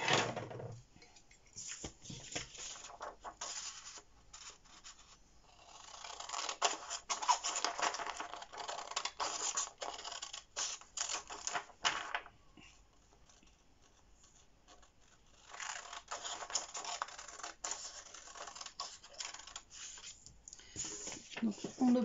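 Scissors snip through a fabric pleated-mask pattern in bursts of close, quiet crisp cuts and rustling cloth, with pauses between passes.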